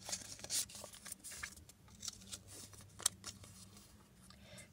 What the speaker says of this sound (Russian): Давайте сейчас мы его распакуем.